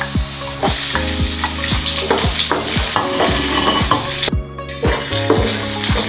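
Onions sautéing in a pan with garlic for ginisang gulay, crackling and sizzling loudly and continuously, with repeated stirring scrapes and knocks of a utensil against the pan.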